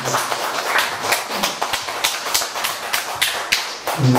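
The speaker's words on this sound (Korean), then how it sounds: "한 박수로 한번 다시 한번 선생님께 쳐주세요" An audience at a literary concert applauds a poet on his 80th birthday. The clapping is continuous and close, with sharp individual claps standing out from the crowd.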